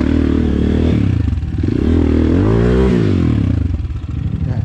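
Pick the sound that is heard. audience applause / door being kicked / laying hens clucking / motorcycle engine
motorcycle engine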